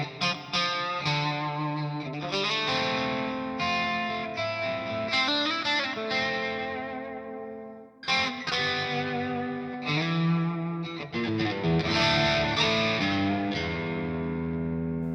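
An electric guitar through a Dophix Medici MORE FUZZ pedal with added reverb strums and holds notes that ring out into a lingering reverb tail, with one brief pause midway.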